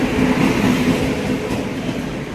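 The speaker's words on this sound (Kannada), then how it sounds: "ಅಂತೂ ನಮ್ಮ ಟ್ರೈನ್ ಬಂತು ನೋಡ್ರಿ." A train pulling into a station on a journey from Badami toward Dharmasthala, a loud, close, continuous rumble of rolling wagons with a faint rail squeal and no talking.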